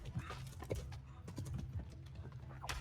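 Horse hooves clip-clopping in a medieval combat video game, a quick, uneven patter of hoofbeats close by against faint background ambience.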